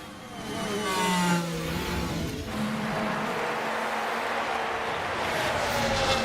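Formula 1 race cars in F1 Manager 2024 roar past one another, a sustained, loud blend of high-revving engines with a rising, overlapping whine as one car overtakes another; no talking.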